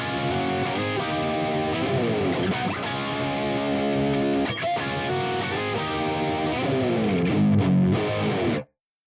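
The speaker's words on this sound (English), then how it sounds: "I'm playing an STR LJ1, which is basically a Les Paul with Mojo Tone PAF clones, and it sounds like this." A distorted electric guitar, a Les Paul-style STR LJ1 with PAF-type pickups played through a Fractal AX8 Brit Brown amp model, plays a continuous crunchy riff of chords and notes, loud and alone, ending abruptly.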